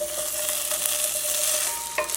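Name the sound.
paneer pieces stir-frying in oil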